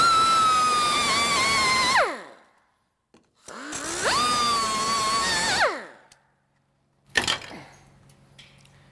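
A power tool cuts off rusted hinge cover plates on a 1955-1957 Chevy wagon, sparks flying, in two loud whining bursts that rise and wind down, with a short gap between them and a sharp clank afterward.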